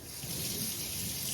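A steady, close rush of running water rinsing freshly drained shirataki-style noodles, an even hiss that holds throughout with no voices.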